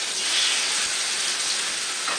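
Salmon fillet coated in oil sizzling in a hot pan, a steady bright crackling hiss that stays even and close throughout with no talking.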